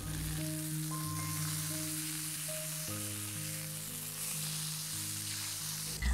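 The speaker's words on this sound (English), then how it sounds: "Here I have 500 grams of pork belly, which I'm going to sear to render out some fat" Steady, loud sizzling of pork belly searing in a hot pan while camping, continuous throughout with a brief clatter at the very end.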